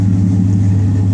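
A car engine idles and revs through a new single-in, dual-out exhaust with the catalytic converters removed and flat tips exiting behind the tires, giving a loud, steady, deep droning rumble close by.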